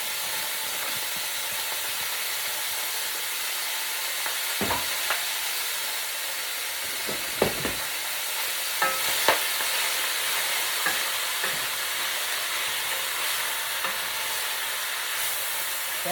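Three pounds of lean ground beef fry in a pan with a constant close sizzle, while a utensil scrapes and stirs it in scattered clicks and knocks.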